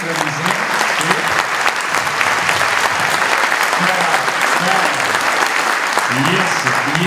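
Sustained applause from a large gathering of teachers at a trade union plenary, dense and steady throughout, with voices murmuring and calling out beneath the clapping.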